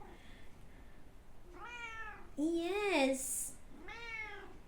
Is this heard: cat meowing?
yes